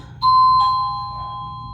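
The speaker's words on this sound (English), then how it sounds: "That's my doorbell." A two-tone doorbell chime rings once, a bright ding followed by a lower dong, with the tones lingering and fading slowly.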